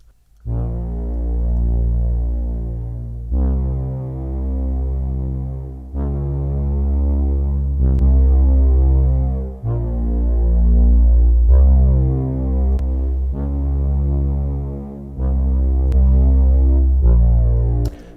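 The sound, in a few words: synthwave bass with and without effect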